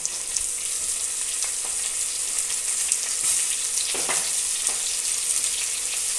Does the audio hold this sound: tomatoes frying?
yes